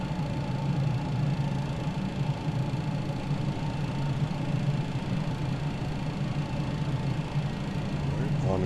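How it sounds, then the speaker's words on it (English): A McDonnell Douglas MD-11's number 3 engine starts up in Microsoft Flight Simulator, giving a steady, loud droning hum with a low rumbling tone that holds evenly throughout. "Sounds like a good start on engine number 3."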